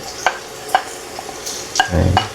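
Garlic and onion sizzling in a pan for chicken caldereta, with tomatoes nearby, a soft continuous fry under sharp spoon clicks against the pan and a brief louder stirring scrape near the end.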